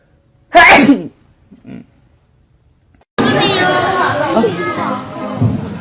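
A K-pop idol lets out one sharp, loud sneeze up close, followed by a faint small noise. A few seconds later a busy crowd of voices chatters continuously in the background.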